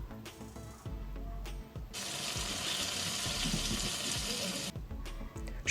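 Sliced half-ring onion pieces sizzling in oil in a pan, a loud steady frying hiss with brief gaps and stirring clatter, no voices.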